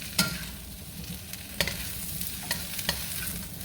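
Yellow squash and mixed vegetables being stirred in a frying pan for vegetable fried rice, a steady soft sizzle under scattered scraping clicks of the utensil against the pan, close and moderately quiet.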